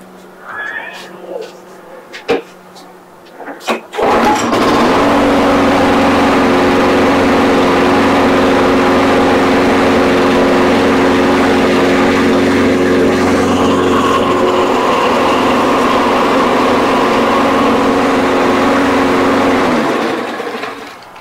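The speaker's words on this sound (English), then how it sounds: "engine runs, doesn't surge, seems like it's pretty good" A Toro or Briggs & Stratton lawn mower engine is pulled a few times and then starts, running loud and steady without surging for about fifteen seconds before it cuts off.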